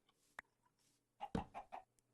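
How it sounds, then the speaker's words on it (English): A chicken in a GregTech Minecraft world clucks in a quick run of short, clicky calls, with one isolated cluck before the burst and a faint one after. Clear and alone against near silence. "it's just the chicken clicking about"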